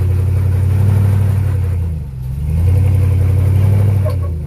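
Steady mid-pitched engine drone of an off-road vehicle straining with its back left tire hung up on a rock, holding loud and even with a brief dip in the middle before rising again.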